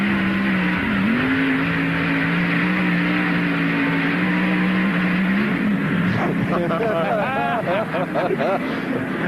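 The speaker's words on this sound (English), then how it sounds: "What an awesome onboard with Matt Kenseth as he hops the first portion of the interloop" A NASCAR race car engine roars steadily from an onboard position as the car runs through the carousel and bumps of a road course, with the pitch dipping and climbing through gear changes under continuous commentary.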